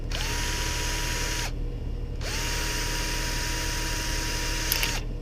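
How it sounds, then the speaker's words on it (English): A power drill bores through a broken part during a repair, running in two long steady whining bursts separated by a short pause, loud and close with no talking. "I'll have to try to drill through here and see if it'll hold."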